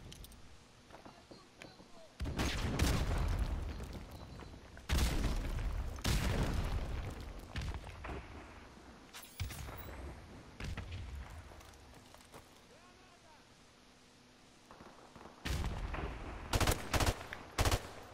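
Gunfire in Call of Duty: Modern Warfare Remastered, Search and Destroy match: long loud bursts of automatic fire and booming shots in several clusters, with quieter gaps between.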